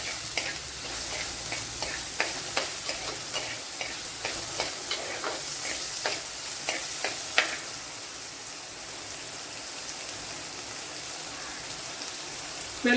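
Shallots frying in a hot pan, a dense close sizzle with repeated scraping stirs in the first half, then steady crackling hiss with no talk.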